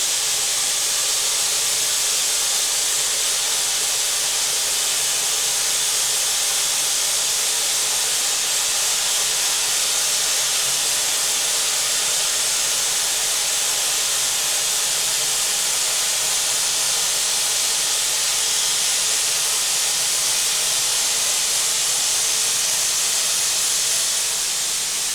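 A Blue Dragon Framework robot plasma gouging during a hot run makes a loud, continuous, steady hiss and roar that holds unbroken throughout, with no voices.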